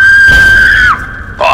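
A child screams in Fallout 3 from somewhere among ruins: one loud, sustained high-pitched shriek that holds steady, bends down and cuts off, then restarts briefly at the end.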